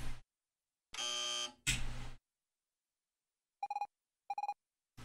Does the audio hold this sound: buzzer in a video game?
yes